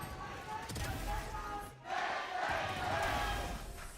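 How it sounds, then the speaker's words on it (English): Loud crowd roaring and cheering at a Valorant esports finals watch party, a steady wall of noise that dips briefly before swelling again. "Oh my god, the crowd is so loud."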